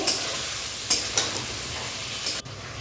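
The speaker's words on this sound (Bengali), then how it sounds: "আলু পটলটা লাল লাল করে ভাজা হলে মশলাটা দিয়ে তারপর ভালো করে কষাবো।" Potatoes and pointed gourd sizzle steadily in hot oil with spices, a continuous close frying hiss broken by a few sharp scrapes of stirring, no talk.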